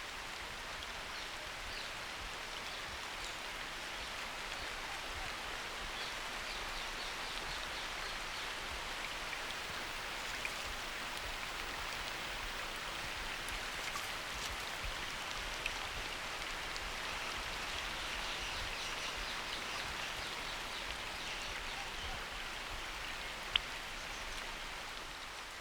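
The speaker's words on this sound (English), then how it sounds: "The downpours continue almost non-stop for a week." Heavy monsoon rain pouring down in an arid region of India, a dense, even hiss of drops on surfaces that holds steady throughout with no break and no voices.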